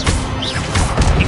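Expelliarmus spell striking enemies in the video game Hogwarts Legacy, a loud, dense crash-and-whoosh burst of effects lasting about a second, close and continuous.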